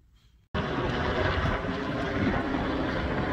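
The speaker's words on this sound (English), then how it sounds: "Chopper in the sky." A helicopter passes overhead. Its loud, steady rotor and engine roar starts abruptly after a moment of quiet and holds strong to the end.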